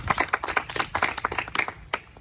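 Applause for a correct answer in a classroom science quiz, a small group clapping fast and unevenly with close, crisp hand claps that thin out toward the end.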